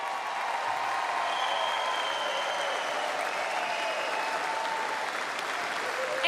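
Basketball fans in an arena applaud and cheer after the Wellington Saints versus Southland Sharks game, a dense, steady roar of clapping and crowd noise that holds evenly from start to finish.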